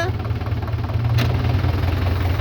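Tractor building field bunds with a reverse blade, its engine running with a steady low rumble throughout, loud and close, with one brief sharp click partway through.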